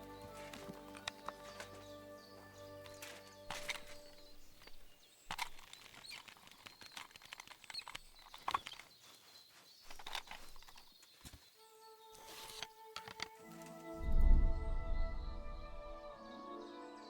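Horse hooves clip-clop on the ground in the medieval game Kingdom Come Deliverance 2, a steady trotting rhythm of sharp hoof hits over ambient music and birdsong, ending in a heavy low thump.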